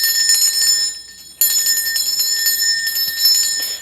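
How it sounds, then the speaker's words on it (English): A small handheld bell rings out to cleanse the space, bright sustained metallic tones that fade, then a second strike near the middle sets it shimmering again, loud and close. "I'm going to ring this bell here just to cleanse the space around us"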